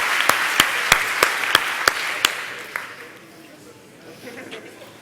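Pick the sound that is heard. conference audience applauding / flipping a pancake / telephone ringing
conference audience applauding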